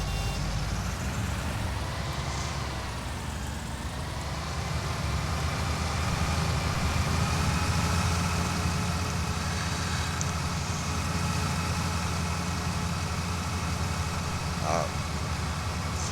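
Farming Simulator tractor idling and reversing, a steady low engine drone with continuous rumble throughout and a reversing beep tone, heard under someone talking.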